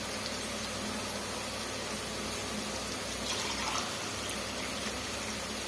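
Water pours in a steady rushing stream into rice in a pressure cooker, loud and continuous without a break.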